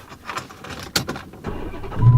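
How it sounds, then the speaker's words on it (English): A 2014 Dodge Challenger R/T with its Hemi V8 starts up: a few sharp clicks and a brief whir, then a deep, loud engine rumble swells near the end. "it has that Hemi under the hood right there, V8 engine, and it definitely sounds really good"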